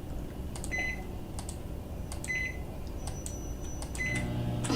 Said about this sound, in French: on va allumer le micro-ondes.